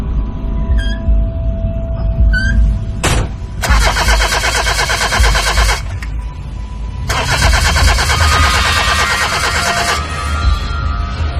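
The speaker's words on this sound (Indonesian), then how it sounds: "berusaha menyalakan mesin mobilku" A car engine is cranked twice, the starter grinding loudly in long rhythmic bursts separated by a pause, with beeps before, but the engine never catches, no talking.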